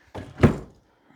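Doors of an old white farm cupboard kicked shut, giving two heavy wooden thuds less than half a second apart, close and fairly loud, with a short rattle as they settle.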